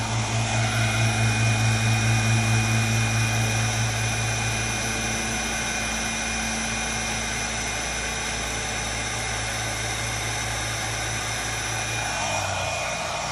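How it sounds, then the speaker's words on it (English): An outdoor lawnmower engine drones steadily throughout, a continuous motor hum with a slightly louder pulsing stretch at the start before settling into an even background whir. "Sorry about the lawnmower."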